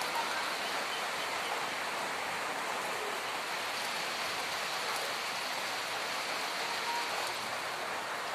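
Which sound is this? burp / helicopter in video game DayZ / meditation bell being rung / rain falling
rain falling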